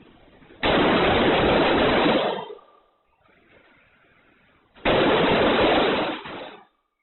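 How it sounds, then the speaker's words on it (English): Gunshots fired by a shooter in a school hallway, captured as two long, heavily distorted bursts of blasting noise separated by a few seconds of quieter rumble. "you will hear the shooter fire several shots in the opposite direction"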